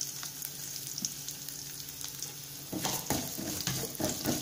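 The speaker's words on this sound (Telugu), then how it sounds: "వాము కూడా వేసినాక ఒక 1 మినిట్ వేయించుకుందాం" Ajwain seeds and dried red chillies fry in a pan with a steady low sizzle, and from about midway louder scraping, stirring strokes come in a rough rhythm, close by, with no voices.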